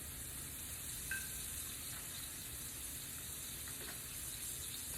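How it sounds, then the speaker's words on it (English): Crawfish fry in hot oil in a pan, giving a steady, faint sizzle throughout with a few small clinks. "Fry those bad boys up."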